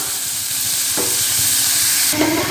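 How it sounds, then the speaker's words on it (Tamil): Chopped vegetables including carrot and capsicum sautéing in a hot pan, making a loud continuous sizzle with a couple of stirring scrapes, close up and without voices. "இப்போ இந்த காய்கறிகள் எல்லாமே ஒரு டூ டு த்ரீ மினிட்ஸ் வதங்கட்டும்"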